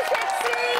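A television quiz show studio audience claps and cheers in a brief, continuous burst of mixed hand claps and raised voices, lively and fairly close.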